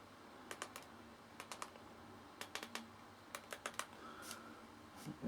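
Keys clattering on the small built-in keyboard of a Pocket C.H.I.P handheld computer, in quick bursts of close clicks separated by short pauses, with a faint hiss underneath and no speech.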